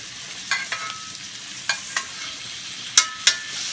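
A steak fries in a pan with garlic while hot fat is spooned over it on a gas stove. A steady sizzle runs throughout, broken by sharp spatter pops, and two louder pops come near the end.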